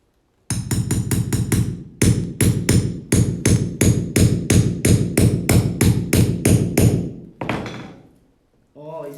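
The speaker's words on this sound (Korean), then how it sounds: "저기 망치 박는 소리와" Nails are hammered in a fast, loud series of sharp metallic strikes, close and repeated in bursts with brief pauses, indoors during a furniture reform project; a few scraping sounds follow near the end.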